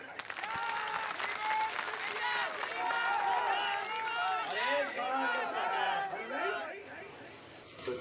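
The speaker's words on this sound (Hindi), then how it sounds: "सही है, ताली बजाओ।" A crowd at a political rally in Madhya Pradesh claps and cheers after a line attacking Congress. Steady clapping runs under a mix of many voices shouting and chattering, then eases near the end.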